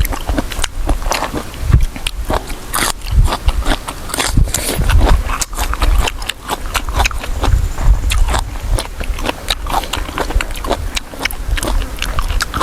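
Close, crunchy chewing of a spicy Thai cuttlefish salad, a steady run of wet bites and crunches, with no talk.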